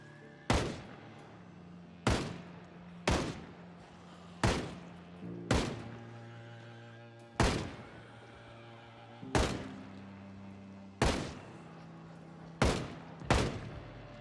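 Gunshots in the zombie survival game Project Zomboid ring out as about a dozen separate sharp, booming reports, spaced a second or more apart and each trailing off briefly, with no talk over them.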